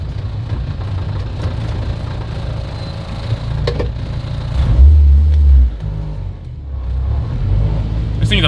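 A K-swapped Honda Prelude engine rumbles loudly from inside the moving car, swelling into a heavier rev around the middle before easing back to a steady drone, with faint voices underneath.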